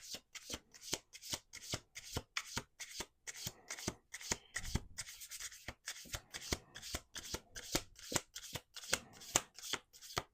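Playing cards being shuffled over and over in a steady, crisp rhythm of close riffles and taps, with no talking.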